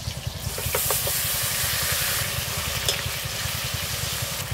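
Spices and masala with tomato, ginger, garlic, dried chilli, bay leaf and cumin paste frying in a pan for duck curry, a steady close sizzle with soft stirring scrapes and no talking.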